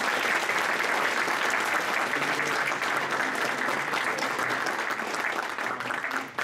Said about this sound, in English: why don't we give a round of applause to our terrific panelists